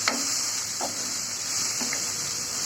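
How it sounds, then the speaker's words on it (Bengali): Dried fish frying with onion, garlic and dried chilli, a steady sizzling hiss broken by a few faint spatula scrapes, close and fairly quiet with no talking. "এখন শুটকিটা পেঁয়াজ, রসুন, শুকনো মরিচের সাথে ভালো করে ভেজে নেব"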